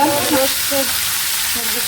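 Spices fry in a pan with a close, steady sizzle that runs unbroken throughout, with faint background sounds beneath.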